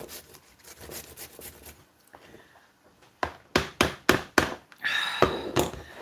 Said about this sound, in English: Two more pieces of zucchini to grate here.